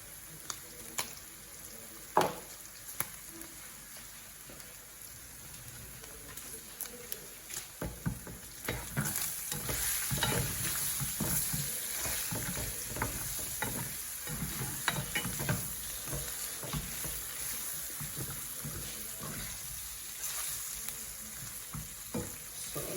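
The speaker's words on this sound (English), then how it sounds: "Now that my meat is brown, I'm going to add onion." Beef browns in a pan with Zimbabwean spice and salt, giving a dense close sizzle with busy scraping and clattering stirs that pick up and stay loud after the first few seconds, with no talking.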